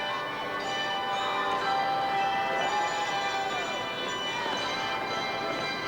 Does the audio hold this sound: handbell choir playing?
yes